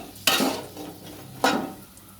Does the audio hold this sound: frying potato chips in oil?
yes